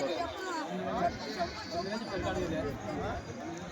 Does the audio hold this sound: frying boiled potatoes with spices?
no